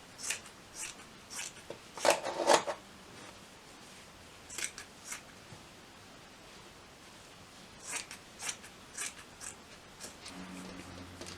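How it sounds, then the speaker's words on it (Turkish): Scissors snipping through trouser fabric at the underarm section, a series of close, crisp cutting strokes with a denser burst early on and scattered single snips between quiet pauses. "Tam koltuk altından bu kısmı da kesiyorum arkadaşlar."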